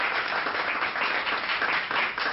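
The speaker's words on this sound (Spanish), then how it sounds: "un fuerte aplauso para Sonia" An audience at a literary talk in New York applauds a speaker being introduced, a steady, dense wash of many hands clapping that continues evenly throughout.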